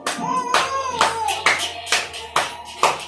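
Rhythmic hand claps, about six to eight in a steady beat, with a voice talking softly underneath.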